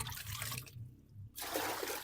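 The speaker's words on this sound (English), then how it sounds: "the first job is bailing out the water" Water is scooped and tipped out of a flooded foundation trench on a sloping building site, giving faint sloshing and trickling pours with a brief quiet gap in the middle.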